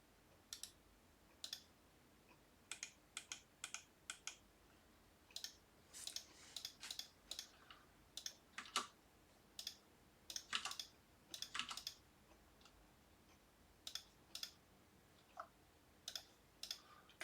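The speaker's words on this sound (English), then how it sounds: "the clicking is picked up quite almost as loud as my voice" Keyboard typing and mouse-style clicking come in irregular bursts of quick taps with short pauses between them, close to the microphone but fairly quiet, with no talking.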